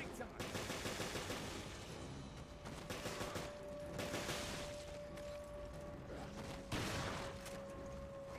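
Sustained automatic gunfire from the video game Resident Evil Revelations, dense rapid bursts running steadily throughout with a high tonal whine underneath and a louder burst near the end.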